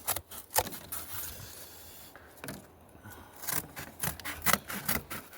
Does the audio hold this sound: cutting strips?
yes